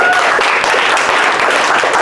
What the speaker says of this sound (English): Can we get a round of applause for Bob?